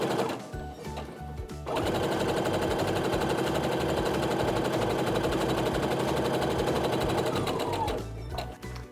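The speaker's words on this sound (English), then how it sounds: "get that ready to go through the sewing machine" A sewing machine chain-piecing quilt blocks runs steadily in a fast, even rhythmic whir of stitching, starting after a brief pause and stopping near the end.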